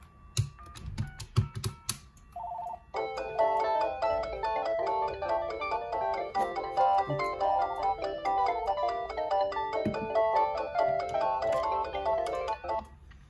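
An AT&T EL52303 DECT 6.0 cordless phone gives a few sharp button clicks, then plays a loud, continuous melodic electronic ringtone of repeating tones for about ten seconds, close by and without talk.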